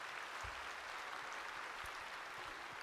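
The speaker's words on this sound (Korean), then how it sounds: "우리 장로님 한번 박수 한번 해주세요." A church congregation applauds an elder with a continuous, even wash of clapping that stays quiet and distant throughout, with a few faint low thumps and no speech.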